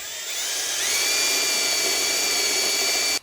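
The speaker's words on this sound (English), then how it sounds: "So we're about to drill that out." A power drill whines steadily at high pitch, its tone rising as it spins up, then cuts off abruptly at the end, drilling into a control arm of a 1985 Dodge D150 pickup.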